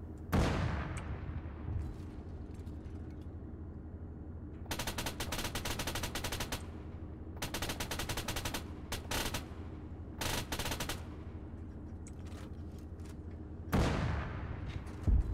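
Rifle fire in the military shooter Arma 3: bursts of loud, close gunshots in rapid runs, broken by short pauses, with a heavier blast near the end and no voices.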